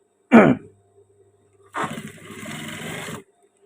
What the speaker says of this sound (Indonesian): ini kita jahit terlebih dahulu untuk tali sabuknya